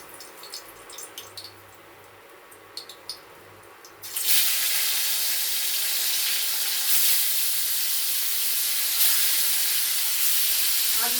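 Rui fish, rubbed with salt and turmeric, frying in hot oil: a loud, steady hiss and sizzle that starts abruptly partway through and holds on, after a quieter stretch of faint clicks.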